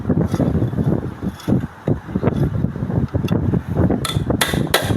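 A hammer drives a hard concrete nail to mark a drilling point on a grass-trimmer line head, giving a run of irregular sharp taps, close and loud, over wind noise.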